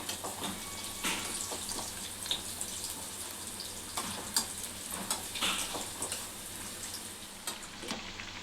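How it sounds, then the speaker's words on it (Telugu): Soya chunk (meal maker) vadas fry in hot oil over a medium flame, giving a soft, steady sizzle with occasional stirring clinks and scrapes, fairly faint and close. "ఇట్లా మీడియం ఫ్లేమ్ మీద కాల్చుకోవాలి. మంచిగా లోపల వరకు వేగుతాయి ఇట్లా కాల్చుకుంటే."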